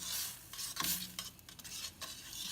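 A spoon scrapes and stirs through chicken stock poured into a hot pan for osso buco, lifting the browned bits off the bottom; faint sizzling runs beneath a few soft knocks and scrapes against the metal.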